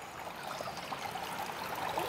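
A small stream of water flows and trickles outdoors, a soft continuous babble at low level that swells slightly toward the end.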